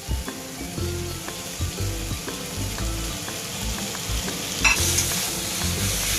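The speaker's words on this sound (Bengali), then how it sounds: "চিংড়ি মাছের সাথে এঁচড়টা খুব সুন্দর করে মিশিয়ে নেব" A shrimp and jackfruit mixture stirred in a frying pan, with a steady sizzle under repeated scraping strokes of a spatula, close and fairly loud throughout.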